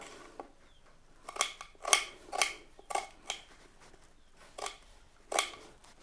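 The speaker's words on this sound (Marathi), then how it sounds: "एक छोटासा कांदा घ्यायचा आहे आणि तो कांदा आपल्याला कापून घ्यायचा आहे बघा" A small onion is finely chopped with a knife in a home kitchen to make hair oil. About ten crisp, close cuts come at an irregular rhythm with short pauses between them.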